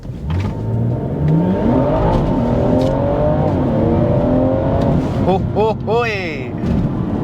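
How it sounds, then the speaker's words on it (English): A BMW M240i with a Bootmod3 stage 2+ tune accelerates hard, close and loud, as the automatic gearbox shifts on its own. The engine note climbs steadily, then several quick upshifts follow in succession near the end. "gonna let the car shift by itself. Let's go."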